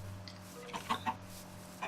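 Chickens clucking in Minecraft, a few short clucks near the middle over a low steady game background hum, faint and sparse, no talk.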